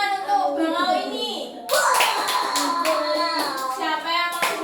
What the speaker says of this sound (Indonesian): Coba tepuk tangan untuk bangau ini.